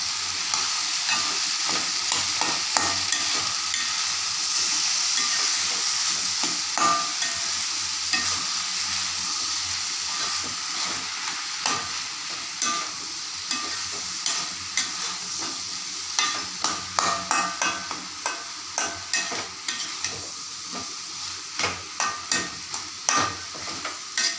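A sweet potato masala for dosa sizzles steadily in a pan while a spoon stirs it, the scraping strokes growing sharper and more rhythmic toward the end, close up with no talking.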